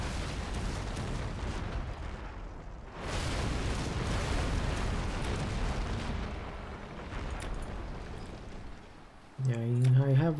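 Ships in the Anno 1701 strategy game fire their cannons in a naval battle, a series of rumbling booms and bursts layered over ongoing sea action, ending with a short musical tone.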